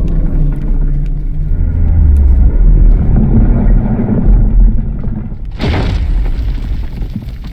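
A grenade goes off in a video game with a loud, deep rumbling boom that rolls on for several seconds, followed by a sharp, bright burst near the end, close and heavy.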